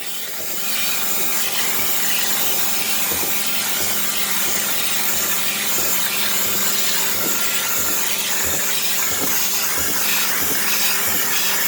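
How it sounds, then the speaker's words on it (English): A carpet steam cleaner works on carpeted stairs, giving a constant loud hiss with rhythmic scrubbing strokes repeating about once a second, with no talking. "Now we need to do the steam cleaning."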